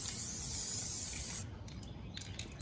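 Spray paint hisses from a can onto a kid's bike helmet in one steady burst of about a second and a half, close and bright, then stops and leaves faint handling sounds.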